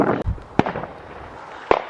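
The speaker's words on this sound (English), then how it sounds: "there's fireworks going off all around us" Fireworks crack and bang around a park on firework night, with two or three sharp, loud bursts standing out against a continuous low rumble of more distant explosions.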